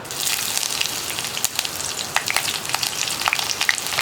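Chopped ginger and green chilies frying in hot oil with spluttering mustard seeds, a dense close sizzle with scattered sharp pops and crackles, steady and moderately loud with no voices.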